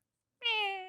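A person imitates a cat's meow with a single drawn-out, nasal, harmonic call that starts after a short silence and slowly fades, heard alone and fairly close.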